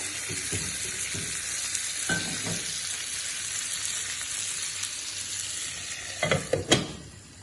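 Lamb brain frying with onions and chillies in a pan, with a steady close sizzle throughout and a few gentle scraping strokes of mixing near the end.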